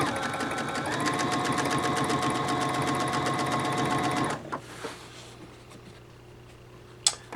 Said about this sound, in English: Let me position myself in the center of the sewing machine so I can